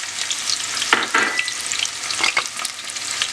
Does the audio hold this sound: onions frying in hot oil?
yes